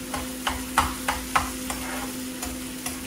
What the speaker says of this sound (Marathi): हे काजू जास्त वेळ परतवत नाही मी